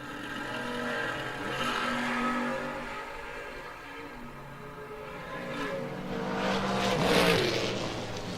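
Drag racing cars at a Mutt and Jeff Promotions event, a Camaro among them, launch and run with loud, sustained engine roar that rises and swells toward the end, with no voices.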